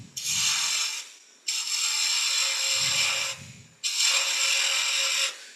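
Wood turning on a lathe while making Christmas ornaments: three long, steady bursts of bright, hissing cutting noise as the tool bites into the spinning wood, separated by short pauses, close and loud.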